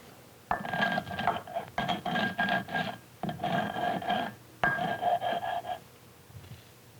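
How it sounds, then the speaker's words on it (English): A stone mano rubs dried corn kernels against a stone metate to grind cornmeal, making repeated rough, rasping strokes in close, steady bursts with brief pauses between them. "The dried kernels are rubbed again and again between the mano and the metate until a fine cornmeal results."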